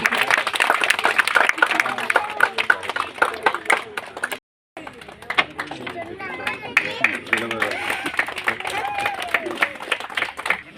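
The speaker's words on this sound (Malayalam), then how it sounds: "എല്ലാവരും ഒന്ന് കൈയടിച്ച് പ്രോത്സാഹിപ്പിക്കും" An audience claps at a felicitation ceremony during a community unit's 21st anniversary celebration, dense sustained applause that breaks off briefly and then resumes, with voices chattering underneath.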